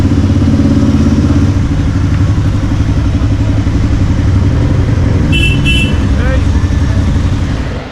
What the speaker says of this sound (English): traffic's pretty bad, but at least everyone's not trying to kill you